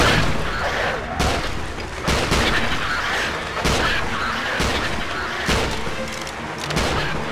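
Sustained gunfire in the King Kong video game, a loud, dense barrage of repeated shots and heavy booming impacts continuing steadily throughout.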